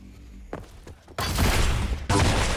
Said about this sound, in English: Good timed rocket there after hearing the bounce pad.